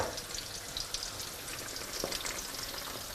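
Khoresh e aloo, a Persian plum stew, bubbling and being stirred in an open pot, a steady crackling sizzle with a few soft spoon knocks, no talk.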